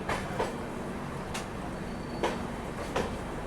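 An intercity-type train rolls past at Bhagalpur Junction in Bihar, a steady rumble with a few rhythmic wheel clacks over rail joints. The train sounds moderately near but subdued, and no one speaks.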